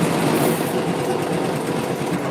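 A basket edging machine runs with a steady, dense mechanical whir and rapid rattling, loud and continuous throughout, with no speech.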